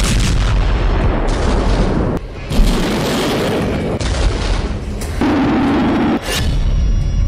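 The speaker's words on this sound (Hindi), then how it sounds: "पुतिन की सेना यूक्रेन के कई अहम ठिकानों पर ताबड़तोड़ हमले कर रही थी।" Russian army artillery fire during attacks in Ukraine, heavy booming blasts rolling one after another in a dense, continuous barrage with abrupt cuts between loud sections.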